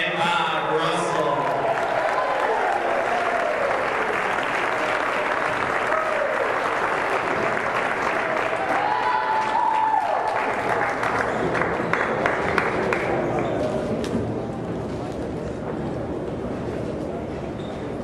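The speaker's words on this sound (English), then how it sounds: "One last round of applause for our seniors and their parents." Applause at a Loyola Academy Ramblers versus Steinmetz game for seniors and their parents, a sustained crowd clapping heard throughout, with an announcer's amplified voice talking over it.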